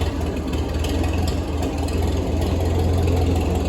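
A grey Ferguson tractor engine running steadily in gear while driving a rotary hoe, a close, low, even rumble with no talk.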